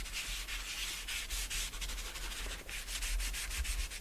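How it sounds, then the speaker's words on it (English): Ink pad rubbed along a paper edge in close, quiet strokes, giving a soft continuous scratchy friction with short repeated swipes. "rub ink pad"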